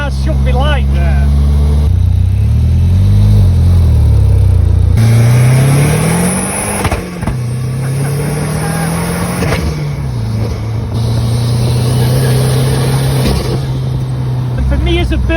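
A 400 hp mid-engined Triumph Spitfire weighing 650 kg revs hard nearby, its loud engine note rising and falling through repeated throttle blips, with people talking over it.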